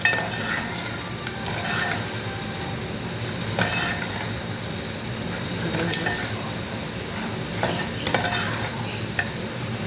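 Onions fry with turmeric in a home kitchen pan, a continuous sizzle with spoon stirring and occasional clinks against the pot, with a television and faint voices in the background.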